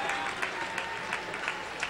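A packed baseball stadium crowd of around 44,000 on Father's Day gives off a steady, distant wash of cheering and clapping, with soft swells rising every half second or so and no clear voices standing out.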